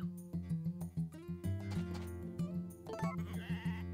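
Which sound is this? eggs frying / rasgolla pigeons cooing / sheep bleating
sheep bleating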